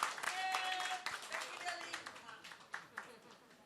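Scattered audience clapping at a book launch event, sharp uneven claps thinning out while a voice talks over them.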